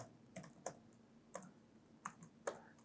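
Code typed on a computer keyboard: a handful of soft, isolated key clicks spaced unevenly, faint and close against low room noise, with no speech.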